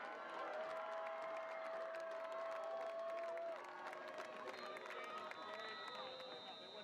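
A crowd at a high school football game between LCC and Orange Glen applauds and cheers the defense, a broad steady roar that holds for several seconds with some voices and tones mixed in.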